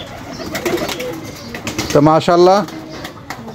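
Pigeons kept together with doves cooing in short harmonic bursts near the middle, with someone speaking briefly before and after the calls.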